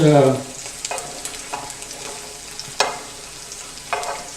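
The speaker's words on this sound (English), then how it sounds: "I'm frying the tomatoes" Tomatoes sizzling and crackling in a hot frying pan, with occasional sharp clicks and stirring knocks, fairly close and without talk.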